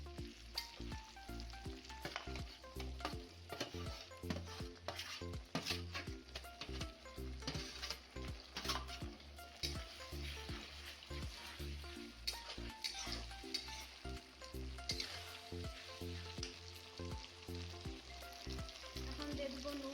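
Spice pastes of garlic, cumin, ginger and dried red chilli fry with browned onions for a mutton curry, a continuous close sizzle broken by rhythmic stirring scrapes and occasional utensil clinks, with no one speaking.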